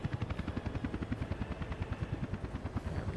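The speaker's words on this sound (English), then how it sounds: "I can just fly a fleet of helicopters from the border to the" Helicopter fleet in the city-building game Workers and Resources: Soviet Republic, heard as a steady rapid rotor thump, loud and alone, with rhythmic low beats running throughout.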